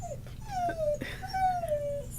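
A pet dog whimpers indoors, close by, in a series of high, thin drawn-out whines with a brief break between them, over quiet room noise.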